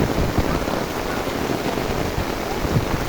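Heavy monsoon downpour during fishing by flooded canals near Abidpur, Burichang, Comilla, a steady dense roar of rain on water and ground, loud and continuous with no voices.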